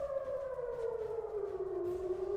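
A civil defense air raid siren in Israel wails loudly and steadily, its tone slowly gliding downward over a couple of seconds with no other sounds competing.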